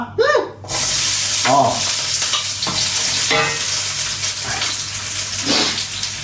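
Onions and meat fry in a pan with a loud, steady sizzle and occasional stirring scrapes, close up and continuous throughout.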